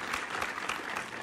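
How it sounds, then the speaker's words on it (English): A stock applause sound effect of a large crowd clapping, a dense, steady wash of hand claps filling the short clip without pause. "Applause sound."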